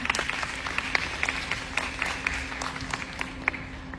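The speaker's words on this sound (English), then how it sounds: "can you please have a huge round of applause for all the ladies sitting here" Audience applause for the pageant contestants at a Miss World head-to-head challenge, with steady crowd clapping and a few sharper individual claps standing out above a faint hum.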